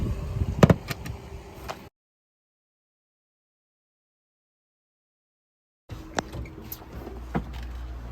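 A timber sliding door on a camper van wardrobe, rolling along its track with sharp knocks and clunks, heard close in two bursts separated by several seconds of silence.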